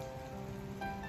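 Steady rain falls on a cold, below-freezing Saturday morning outside a house balcony, a soft continuous hiss with no voices.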